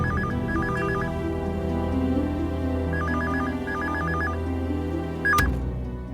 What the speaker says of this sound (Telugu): అదిగో ఫోన్ ఏదో రింగ్ అయింది,